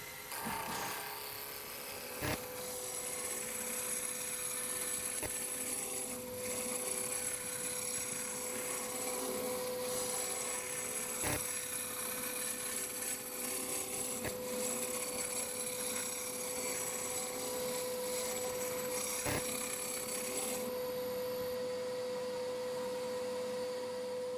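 A wood lathe cutting with a carbide cutter, bringing a rough, battering piece of wood down to diameter: a steady broadband scraping whir with the motor hum running throughout and occasional sharp knocks as the tool catches.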